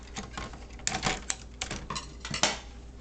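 Scissors snipping through an attachment to free a circuit board during a display teardown, heard as a quick series of sharp close clicks and snaps, several louder cuts clustered near the end with no talking.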